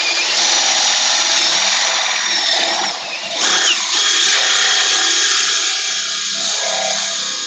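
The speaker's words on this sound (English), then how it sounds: "I'm going to drill a third one" Power drill boring into hard Osage orange wood with a dull bit, a loud continuous whine that strains and briefly dips midway before resuming steadily close up, with no talking.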